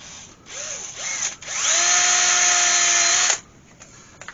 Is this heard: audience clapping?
no